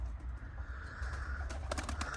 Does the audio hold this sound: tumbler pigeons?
yes